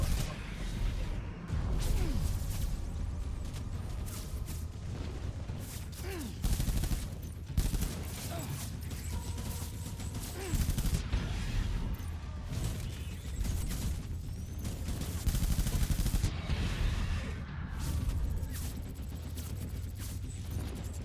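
Assault rifle fire in Death Stranding Director's Cut, with repeated bursts of shots and impacts over continuous game noise and someone talking at times.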